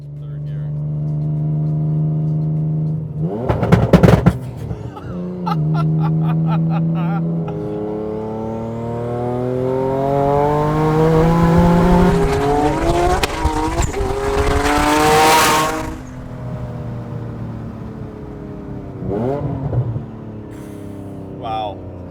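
A 950 HP twin turbo Nissan 350Z engine revs hard and accelerates through the gears, loud and close, rising and roaring before easing off, with a voice speaking over it.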